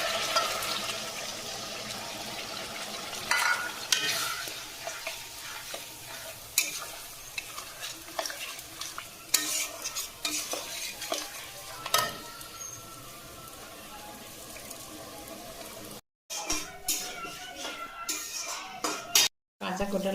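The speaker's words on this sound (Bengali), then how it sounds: "আমগুলো মশলার সাথে একটু কষিয়ে নেবো।" Ripe mango pieces being stir-fried with spices, sugar and ground black mustard in a pan, giving a steady close sizzle with repeated scraping and stirring strokes, and brief gaps near the end.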